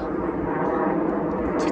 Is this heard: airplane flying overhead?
yes